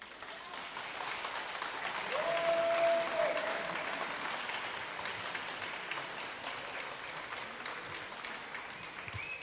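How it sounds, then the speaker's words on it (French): Steady applause from a crowd at a youth prize-giving ceremony for young winners, sustained and even for the whole stretch, with a faint whistle-like tone briefly audible in the middle. "il faut les applaudir vraiment"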